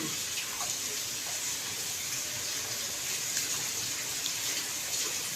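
Tap water runs steadily into a metal utensil being rinsed in a kitchen sink, a continuous close, moderately loud splashing hiss that holds evenly throughout with no voices.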